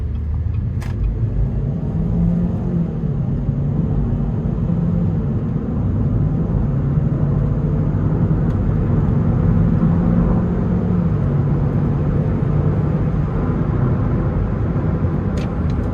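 A 2017 Chevy Cruze hatchback's 1.4-liter turbocharged four-cylinder pulls hard under acceleration, a steady loud engine drone and road rumble from inside the cabin that holds constant throughout.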